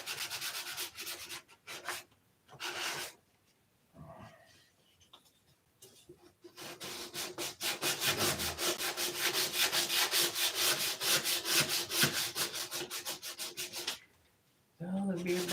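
Steady rhythmic sanding strokes, rasping back and forth in a fast repeated pattern, with a few pauses between bursts.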